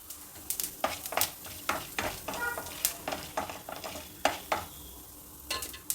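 Chana dal, onion and green chillies fry in a pan, a soft sizzle broken by repeated stirring scrapes and light metallic clinks of a spoon against the pan, fairly quiet and close.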